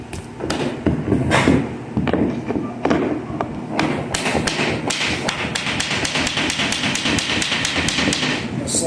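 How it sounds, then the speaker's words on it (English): Repeated sharp knocks on a laminate floor board being driven into place under a door jamb, irregular at first then settling into a fast, steady series of loud, close thuds. "Now you knock the board down."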